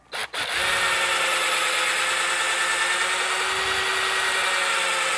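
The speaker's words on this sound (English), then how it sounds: "So I run the drill wide open and then I go a little bit at a time." A power drill runs wide open, spinning up after a brief stutter and then holding a loud, steady, continuous whine for several seconds, close by with no talking.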